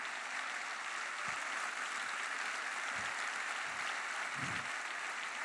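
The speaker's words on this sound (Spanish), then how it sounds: "Dale fuerte el aplauso." Congregation applause during an evangelistic church service, a steady, even wash of many hands clapping that fills the space for over five seconds, with a few low thumps beneath it.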